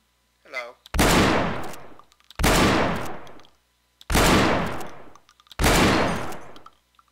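Four heavy shotgun blasts in the video game Receiver, evenly spaced about 1.5 seconds apart, each loud and booming with a trailing decay, preceded by a faint brief voice.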